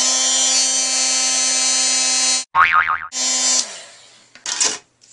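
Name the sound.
heat gun blowing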